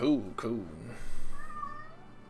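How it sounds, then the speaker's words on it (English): A cat meows with a rising and falling tone after a short burst of nearby talking, the call fairly clear against a quiet room. "And there's my cat meowing."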